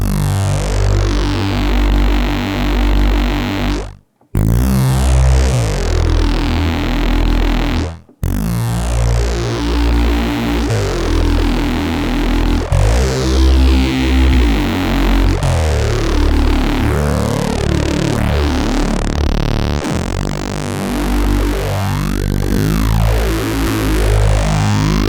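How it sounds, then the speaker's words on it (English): A dense, heavily distorted synth tone sweeps and shifts character every few seconds as bands switch, with two abrupt brief dropouts early on, loud and continuous. "And then it starts with this nice switching between the different bands, including the band with the distortion."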